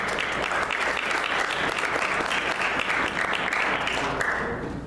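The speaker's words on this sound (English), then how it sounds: "It's not often we can clap about anything in this state, so you deserve to do it." Sustained applause from an audience at a political conference in New York, dense and steady for several seconds before easing slightly at the end, with no speech over it.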